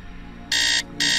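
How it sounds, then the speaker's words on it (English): A video game alarm clock goes off in two loud, bright buzzing bursts, the second starting after a short gap, over a quiet low background hum. "Set the alarm"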